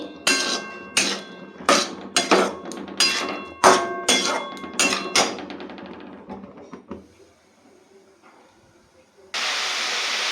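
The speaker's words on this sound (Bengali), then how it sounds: "এবার একটু ভালো করে নেড়ে নেবো, সামান্যই নাড়বো" A spoon or spatula knocks and scrapes against a pan while momo filling is stirred, about a dozen sharp metallic taps fading out, followed by a sudden steady sizzle near the end.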